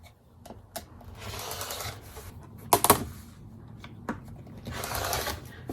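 Vintage linen fabric and doilies being cut for a quilt, giving soft, dry snipping and rubbing sounds with a sharper cluster of cuts midway, close and fairly quiet.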